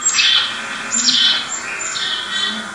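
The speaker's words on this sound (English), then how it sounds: "This is our state bird, the black-capped chickadee." A black-capped chickadee calls close by with a series of harsh, buzzy, squawking notes repeated in short bursts about a second apart. No other sound is heard.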